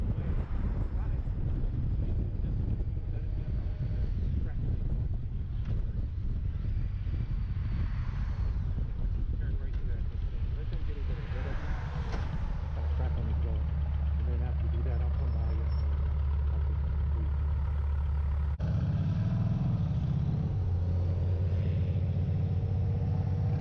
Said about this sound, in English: This is the first time I've ever heard this motorcycle from behind, and it has a really nice low chug sound to it.